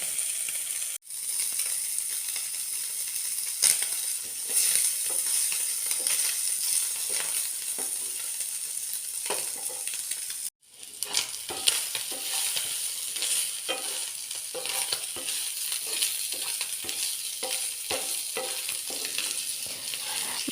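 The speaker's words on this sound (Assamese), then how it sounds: "খুব কম তেলতে মই মাছখিনি এনেকৈ খৰমৰাই ভাজি" Small puthi fish fry in very little oil until crisp, a continuous close sizzle with scattered stirring clicks and two brief pauses.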